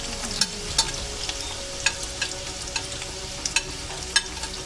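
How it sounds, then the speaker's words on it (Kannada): Onions and fennel seeds frying in hot oil for egg fried rice, a steady sizzle with sharp stirring clicks and scrapes every second or so, close and fairly quiet, no talking. "ಈರುಳ್ಳಿ ಸೇರಿಸ್ಕೊತಾ ಇದ್ದೀನಿ."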